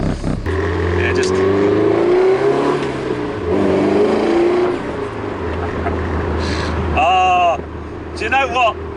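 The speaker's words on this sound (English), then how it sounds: "when you obviously have to give it a bit of a blip on the downshift" An MG Abingdon Edition with 300bhp revs hard, its engine note rising and falling through blips on downshifts, loud and close inside the car, with someone talking over it.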